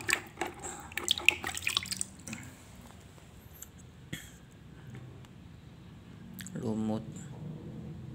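Running water washes dirt off wood fossils, with drips, splashes and squishy handling, clustered at the start and again near the end, while a person talks.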